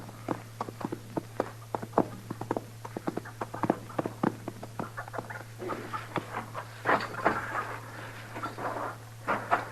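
Horse hooves clip-clop in an old-time radio western, an uneven run of sharp hoofbeats that builds into a quicker, busier patter toward the end, heard alone.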